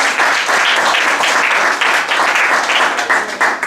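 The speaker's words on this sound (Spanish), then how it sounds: "Dale ese aplauso al Señor" A church congregation breaks into loud, dense applause, many hands clapping together close by in a continuous burst that swells and then begins to thin near the end.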